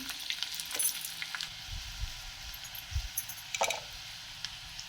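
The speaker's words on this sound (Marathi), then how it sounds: "लसणाची फोडणी दिली" Garlic sizzles softly in hot oil with a steady crackle, broken by a few low thumps and clinks from the pan, close by and without talk.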